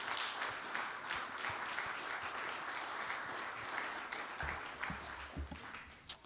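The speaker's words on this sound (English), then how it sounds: "Let's give Chris a round of applause" Steady audience applause, a dense wash of many hands clapping at moderate volume, thinning toward the end with a few scattered claps.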